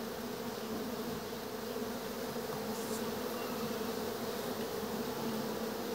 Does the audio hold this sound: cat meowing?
no